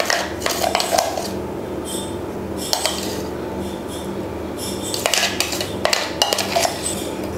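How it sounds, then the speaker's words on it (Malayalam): Spoon scraping and clinking against a metal bowl while stirring a Kerala flattened-rice (aval) laddu mixture, with repeated close scrapes and small clinks in uneven bursts and no talking. "ഞാൻ ആദ്യം ഒന്ന് സ്പൂൺ കൊണ്ട് മിക്സ് ചെയ്യുന്നതേ ഉള്ളൂ"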